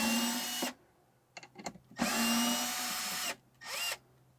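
A power drill fitted with a T20 Torx bit backs screws out of a vehicle console during a Lock'er Down console safe install, whirring in several close, loud bursts of varying length with brief pauses between them.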